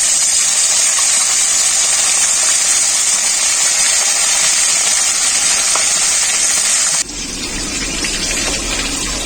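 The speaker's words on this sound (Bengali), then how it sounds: "তো মাংসটার মশলাগুলোকে এভাবে ঝেড়ে নিয়ে একটু তেলে ভেজে নেব।" Marinated chicken sizzles and spits loudly in hot white oil in a wok, a dense continuous frying hiss that drops in intensity near the end.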